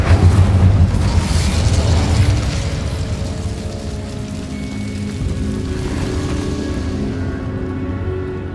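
An Incendio fire spell in Hogwarts Legacy goes off as a loud, roaring blast inside a cave. A crackling, fiery rush fades into a lingering hiss and rumble.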